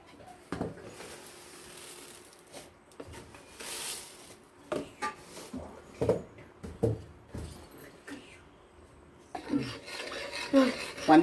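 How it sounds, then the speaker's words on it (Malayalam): A spoon scrapes and clinks in a pan as sugar is stirred into jaggery syrup for jackfruit seed laddu, with irregular rasping strokes and metallic taps close by. "പഞ്ചസാര നല്ലപോലെ അലിയുന്ന തരത്തിൽ ഇളക്കി കൊടുക്കണം."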